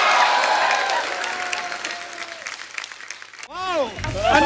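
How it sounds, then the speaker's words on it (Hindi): Studio audience applause on a Hindi comedy talk show, a loud burst of clapping and cheering that fades, followed by a brief musical swoosh effect at the end. "अनन्या, धैर्य और सिद्धांत चतुर्वेदी के लिए जोरदार तालियां।"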